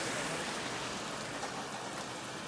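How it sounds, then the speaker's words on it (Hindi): Heavy rain pours down steadily on a day out, a dense, loud, unbroken hiss of falling water with no speech over it. "बहुत ज़्यादा बारिश हो रही है"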